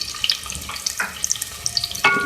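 Mustard seeds and carom seeds crackle in hot oil in a pan, with sharp pops and spits scattered over a sizzling bed, plus a louder burst of sizzle near the end.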